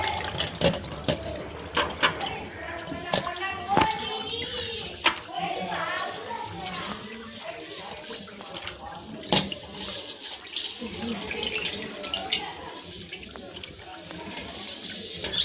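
Raw fish are rinsed in a bowl of water for frying, with intermittent sloshing, splashing and light knocks as someone keeps talking over the washing.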